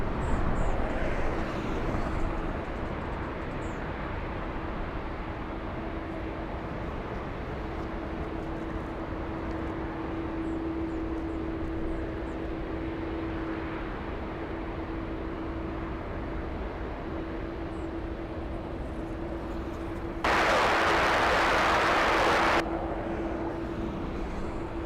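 Steady, distant roar of large jet airliners at LAX airport, a continuous broadband rumble with a faint sustained hum, and a brief louder burst of noise near the end.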